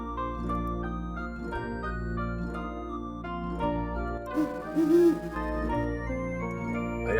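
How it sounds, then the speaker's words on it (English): Owl hooting in the FM-Towns version of the adventure game Loom, a soft repeated hoot set against steady layered game music, with no talking over it. "I gotta go get this other owl out of the bush first, though."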